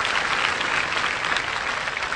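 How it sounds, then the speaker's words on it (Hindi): Steady, dense crowd applause from a gathered audience at a spiritual discourse, filling the whole stretch evenly and fairly loud with no pauses. "ताली बजाने से काम नहीं चलेगा"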